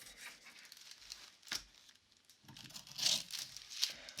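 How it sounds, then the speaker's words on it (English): 12-inch sewing shears slide and snip through a fabric pattern on a tabletop, giving scattered crisp cutting and paper-like rustling bursts, close and fairly quiet, with no talk. "The shears are sliding on the table. These are 12-inch shears."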